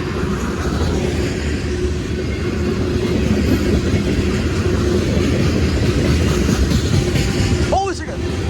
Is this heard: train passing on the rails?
yes